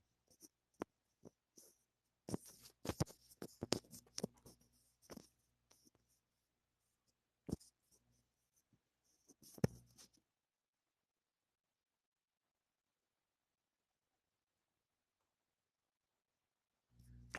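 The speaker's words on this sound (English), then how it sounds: "Francisco is typing" Irregular clusters of soft clicking keystrokes, faint and close, with several pauses and a long silent stretch before a few more taps at the end.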